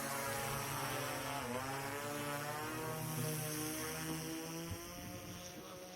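A DroneDeploy-controlled drone lifts off with a steady, loud propeller whir holding constant throughout, its buzzing tone wavering slightly as it climbs.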